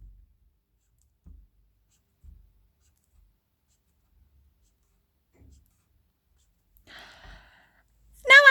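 A pen draws on paper in several brief, faint scratchy strokes separated by quiet gaps, ending with a louder sound near the close.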